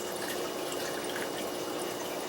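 Water pours steadily into a rolling plastic trash can during a manual aquarium water change, a loud, continuous hissing gush with no breaks.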